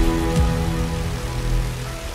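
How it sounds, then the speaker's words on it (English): Rain falling in Escape from Tarkov, a constant dense patter and hiss holding steady throughout, loud and close, with a faint low thump early on and no voices. "I cannot hear because of the rain."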